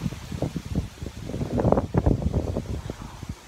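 Gusty outdoor wind buffets the microphone in a continuous rough rumble that swells and eases, loud and close throughout.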